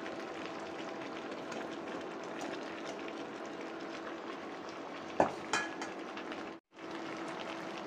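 Potato, pumpkin, carrot and papaya being stirred into a pot with a fried hilsa fish head, giving a steady low sizzle under scraping utensil strokes and a couple of sharper clinks against the pot.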